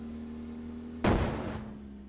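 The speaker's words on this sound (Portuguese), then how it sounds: "Não sei, explodiu do nada" A vehicle blows up in the physics game Brick Rigs: a single sudden blast, loud and close, with a broad burst that decays over about a second under a steady background hum.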